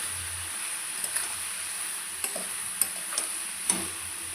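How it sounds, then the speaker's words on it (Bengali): Green chilies with salt and turmeric sizzle softly in a pan, and a handful of light ticks and scrapes come from the stirring utensil. "ভালো করে নেড়ে চেড়ে নেব।"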